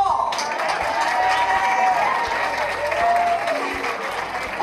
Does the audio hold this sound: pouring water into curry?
no